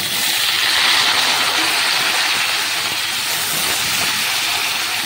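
Steamed green jackfruit with partly fried potatoes and a little turmeric sizzles steadily in a pan while being stirred, a continuous close hiss of frying with no talk over it.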